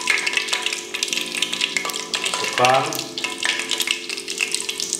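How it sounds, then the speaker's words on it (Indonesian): Jumbo chicken croquettes in a breadcrumb coating sizzle as they fry in hot oil, a constant crackling hiss with a brief splashy stir partway through, while a voice speaks briefly. "sekarang saatnya kita goreng kroketnya"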